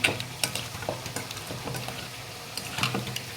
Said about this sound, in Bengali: এই যে মাছটা দিয়ে দিলাম কষাইতে